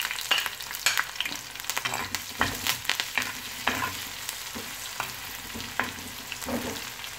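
Ginger, garlic and green chilli fry in hot oil with popping mustard seeds for a Kerala prawn and coconut chips dish, with a steady close sizzle broken by repeated stirring scrapes and spoon knocks, no voices.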